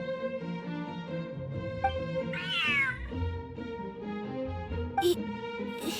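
A cat meowing in a video game, several drawn-out meows and a caterwaul-like cry over soft game music, fairly quiet and with no talk.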